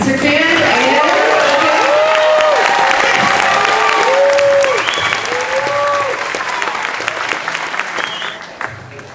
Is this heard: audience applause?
yes